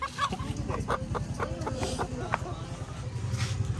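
A large rooster, about three kilograms, clucks and calls in short bursts while being caught by hand at a family home, with people talking nearby and steady low background noise throughout.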